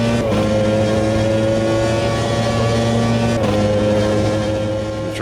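A 1992-season Formula 1 car engine in a racing game wails at high revs, steady and loud with a brief gear-shift dip partway through.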